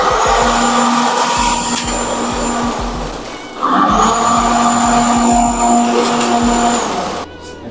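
Stage cold spark machines firing together in a continuous loud hissing roar, split into two long bursts by a short dip, with a steady tone running beneath the rush.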